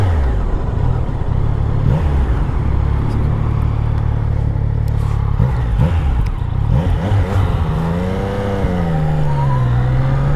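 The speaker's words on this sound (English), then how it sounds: "It just loves being revved." A Yamaha XSR900 motorcycle's engine revs loudly and steadily up close, with a continuous low growl whose pitch climbs and falls between throttle blips, and no talking over it.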